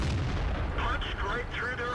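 Tank cannon fire in the World of Tanks game: a single heavy booming shot at the start, followed by game effects and clanking debris sounds that trail off over under two seconds.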